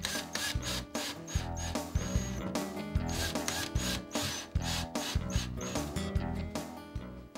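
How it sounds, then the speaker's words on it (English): Power drill driving mounting screws into a wall stud for an anti-tip furniture kit, a close, loud, repeating whir with rhythmic pulses and thumps as each screw bites into the wood. "Then drive in the mounting screws."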